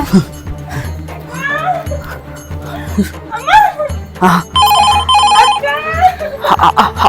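A telephone rings in a home during a Kannada short film, its bright electronic trill coming in short bursts amid loud, lively talking voices.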